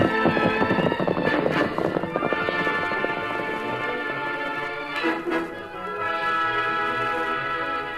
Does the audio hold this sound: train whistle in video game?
no